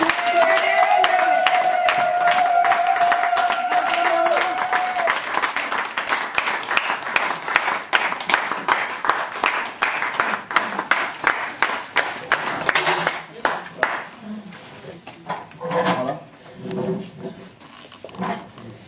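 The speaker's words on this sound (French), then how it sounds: "sous les applaudissements de l'auditoire" An audience applauds at an official ceremony for a Brussels mothers' association while documents are handed over. Dense, sustained clapping runs under a high whistling tone at first, loosens into rhythmic, uneven claps, then gives way to talking.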